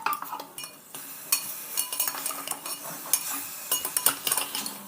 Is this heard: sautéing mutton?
yes